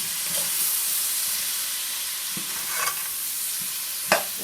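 Chataigne (jackfruit) curry is tossed in a pot over steady sizzling heat, with a few soft scrapes and clinks from the stirring spoon rising above the constant frying hiss.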